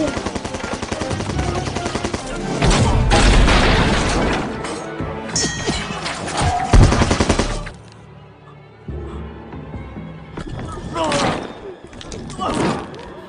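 A monster rampages through a palace in a 2015 fantasy film, loud crashes, smashing and rapid gunfire-like bangs in dense bursts, then quieter stretches broken by more impacts, with voices and score mixed in.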